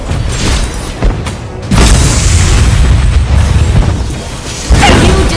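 A turret being destroyed in the mobile game Mobile Legends, heavy booming crashes and rumbling debris in loud, dense game audio, with a sharp impact at the start and another surge near the end.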